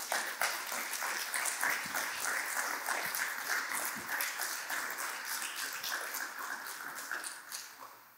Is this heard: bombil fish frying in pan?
no